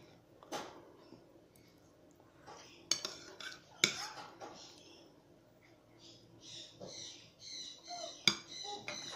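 A spoon clinking against a plate while a monkey eats porridge, with scattered bright metallic taps and scrapes close by and someone talking softly in between.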